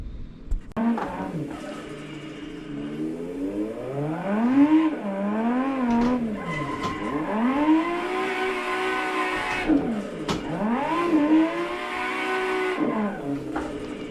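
A Nissan ER34 sedan's engine in a driving video game revs up and down repeatedly, rising and falling in pitch through gear changes, with brief tire squeals, loud and continuous.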